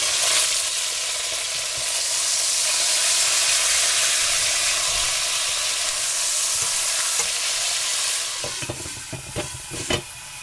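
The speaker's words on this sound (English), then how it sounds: "I'm going to turn my pork chops over." Pork chops brown in a one-pot meal, a loud, steady sizzle and hiss filling the pot close up, with scraping stirs and a few clanks of the utensil near the end as the chops are turned.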